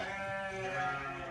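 Sheep bleat steadily and close by at feeding time on a snowy farm, as a mix of lentil straw and white straw is laid out for the flock; a sustained, layered bleating chorus with no talk over it.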